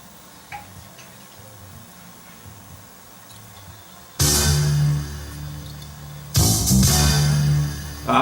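A Sony TC854 four-channel reel-to-reel deck, damaged in a fall, ticks and clicks faintly before tape playback at 15 IPS bursts in loud with hissy, full-band sound, briefly dropping out before resuming.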